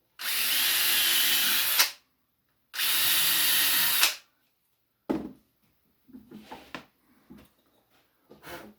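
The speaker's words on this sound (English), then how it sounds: "I got my drill bit, my little drill bit." A small power drill whirs in two steady bursts of about two seconds each, followed by a few quieter clicks and handling noises.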